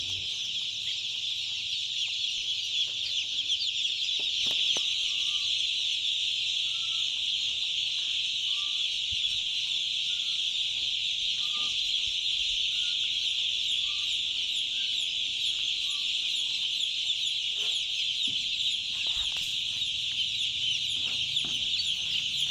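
Broiler chickens on a farm during loading, a dense constant chorus of high peeping and clucking from a large flock of about 2,700 birds, with occasional knocks and handling noises underneath.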